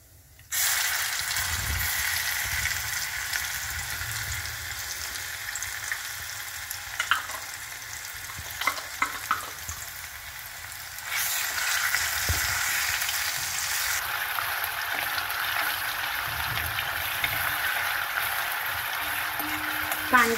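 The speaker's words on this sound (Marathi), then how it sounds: "आता ही पेस्ट मी यामध्ये टाकणार आहे।" A paste of green chili, garlic, ginger and a little onion fries in hot oil with a loud, close, continuous sizzle that swells after being added, broken by a few spoon clinks, with a voice talking at times.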